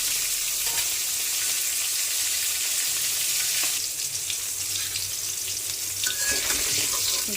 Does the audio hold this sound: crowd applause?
no